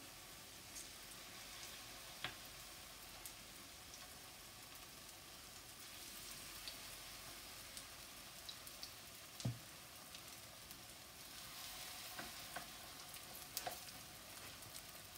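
Ripe banana fritters fry in a pan with a soft, steady sizzle and occasional small pops, quiet and continuous with no voices.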